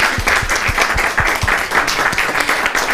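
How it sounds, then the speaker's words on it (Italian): An audience at an Italian variety show claps for a volunteer called on stage, a close, lively patter of hands in which individual claps stand out in quick succession. "un applauso"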